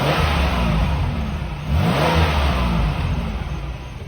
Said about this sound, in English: at least we know there's nothing wrong with this engine. But listen to it even.